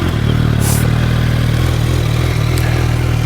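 A 2023 Suzuki Hayabusa sport motorcycle engine idles loudly and steadily close by, a low mechanical rumble with slight clatter and a brief hiss near the start.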